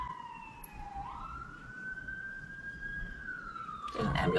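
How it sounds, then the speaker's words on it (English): An ambulance siren passes by outdoors, its wailing tone rising and sweeping at moderate distance, steady throughout, with a louder rumbling burst of traffic noise at the end. "There's an ambulance going by"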